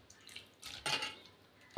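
Water poured a little at a time into bajji batter for an evening snack, heard as a few short, soft splashing bursts close by, ending in a sudden louder knock; no talking.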